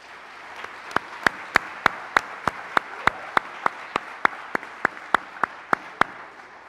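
Corporate awards audience applauds Momentum Gold partners, a steady crowd clapping wash overlaid by one close, sharp clapper beating a regular, even rhythm of loud claps throughout.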